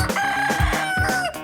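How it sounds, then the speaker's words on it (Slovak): A rooster crows on a traditional Slovak farmyard among hens, one long, loud, near call with a rising and sustained tone, alone with no talk. "Práve sa ozval kohút."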